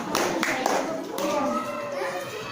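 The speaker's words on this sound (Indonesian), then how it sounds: "kita beri tepuk tangan untuk kelompok 4" A short round of applause from a primary school class of children, quick overlapping claps close by, with young voices mixed in.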